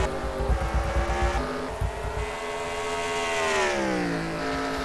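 NASCAR stock cars, including a Dodge, racing at Dover in a video game: a loud, steady engine roar with a rising, sweeping pitch as the cars accelerate past, and no voices.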